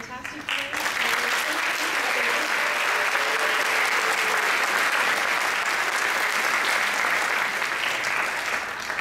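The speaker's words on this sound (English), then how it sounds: "I think everybody deserves a round of applause" Full audience applause at a high school spring concert by a symphonic band at Fort Defiance High School, a dense, steady wash of many hands clapping that fills the hall without pause from start to finish.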